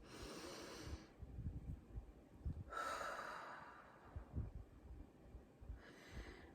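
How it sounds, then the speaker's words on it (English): Deep, slow breathing, with three long airy breaths alone in a quiet room, the middle one fullest, over faint low background rumble. "Take a couple of deep, cleansing, steadying breaths in."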